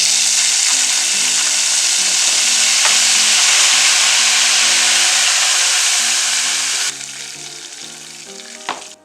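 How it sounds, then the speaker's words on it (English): Dark vinegar, about a spoonful, hitting a hot pan of pork, producing a loud, close, steady hiss that runs for several seconds, then drops to a quieter sizzle with a sharp scrape near the end. "Now you want to add a bit of dark vinegar, just 1 spoon. And then this thing will sort of explode a little bit."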